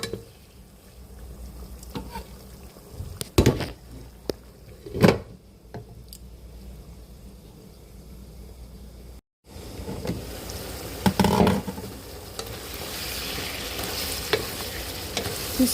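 Very fatty pork pieces frying in oil in a pan, a steady sizzle with sharp stirring clatters near 3.5, 5 and 11 seconds and a brief dropout near 9 seconds.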